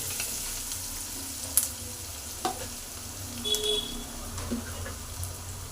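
Green chillies fry in a pan for a chicken gravy, a steady close hiss of sizzling oil with a few light clinks and stirring scrapes, no talk over it.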